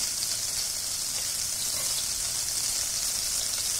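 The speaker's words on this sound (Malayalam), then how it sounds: "ഇപ്പം നമുക്ക് എടുത്ത് വെച്ചിരിക്കുന്ന ഗാർലിക് ആഡ് ചെയ്ത് കൊടുക്കാം" Whole garlic cloves fry in hot olive oil for a keto broccoli and tomato soup, giving a steady, dense sizzle that stays constant throughout with no speech.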